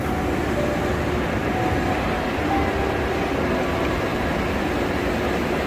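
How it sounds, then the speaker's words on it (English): Steady low rumble of a Japanese bullet train pulling away from a station between Osaka and Takayama, a continuous broadband roar with no voices, fairly loud and even throughout. "Okay, that bullet train has just left."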